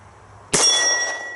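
A .45 ACP round from a Citadel Compact 1911 pistol strikes a steel gong, giving one sharp metallic clang that rings on with a sustained, slowly fading tone.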